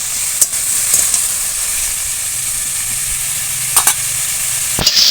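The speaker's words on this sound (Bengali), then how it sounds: "ঝিঙ্গেটা এইভাবে একটু তেলের মধ্যে হালকা করে একটু ভেজে নেব" Sliced ridge gourd frying lightly in hot oil in a pan: a steady, close hiss of sizzling runs throughout, broken by a few brief scraping clicks from stirring, with no voices.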